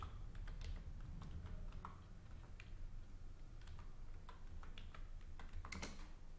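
File name typed on a computer keyboard, a quick, steady patter of soft key clicks close by over a low background hum, with no speech.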